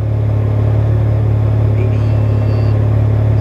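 A 12-valve VR6 exhaust idles from just behind the car, giving a loud, steady low rumble with a strong even hum throughout and no talking.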